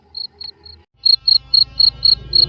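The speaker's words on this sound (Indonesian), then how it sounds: "suara jangkrik di halaman terdengar syahdu mengantar kesenyapan malam" Crickets chirp in a yard at night in Pengging, sharp high pulses repeating in a steady rhythm, loud and close with nothing else around them.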